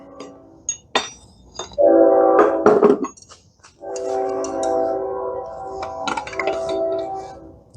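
Hot steel for a Viking bearded axe is struck on an anvil, with sharp metallic clinks and ringing tones as several hammer blows land, close and loud, with gaps between strikes.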